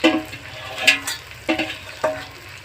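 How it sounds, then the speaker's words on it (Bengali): Onion, tomato, ginger-garlic-cumin paste and dried red chilli sizzle in a pan for a fish curry, with steady frying hiss broken by three or four sharp spatula scrapes and clinks at regular intervals. "খুব ভালো করে এবার আমি মশলাটা দিয়ে কষিয়ে নেবো"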